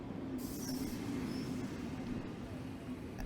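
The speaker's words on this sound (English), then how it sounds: "As Billy's train comes to a stop, the doors slide open" A train pulling into a station in a Call of Cthulhu tabletop game scene, heard as a rumbling carriage with a faint steady squeal and a brief hiss, continuous and fairly close, with no speech.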